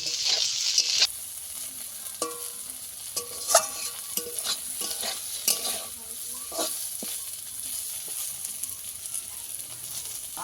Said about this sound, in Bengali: এই বেগুনটাকে একটু লাল লাল করে ভেজে নিতে হবে।